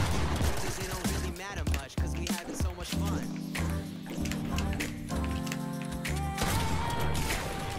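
Gunfire bursts in the Fortnite video game on Nintendo Switch, rapid shots and impacts mixed with game music and effects, loud and busy throughout with a player's voice talking over it.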